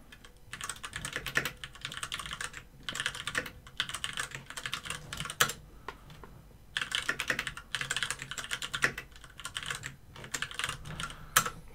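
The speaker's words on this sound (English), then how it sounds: "The sound from your mechanical keyboard is very nice. This is a Ducky Shine 6" Typing on a Ducky Shine 6 mechanical keyboard, bursts of rapid clicky keystrokes separated by short pauses, close but fairly quiet, with occasional heavier key thumps and no voices.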